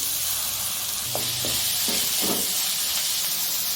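Ripe tomatoes sizzle and fry in a pan with oil and curry leaves for Chettinad crab masala, a steady hiss broken by a few stirring scrapes.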